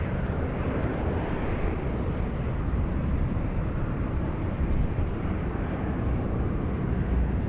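A jet airliner takes off at Sydney Airport on a windy day, a steady broad roar that holds loud and unbroken throughout, mixed with gusty wind rumble and no voices.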